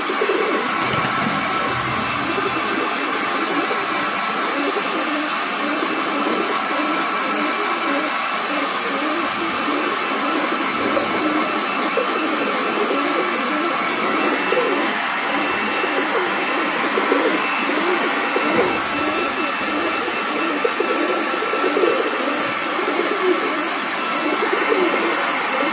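A hair dryer blows steadily on a dyed roller pigeon's wet tail, a constant close whooshing drone running throughout with faint bird cooing underneath.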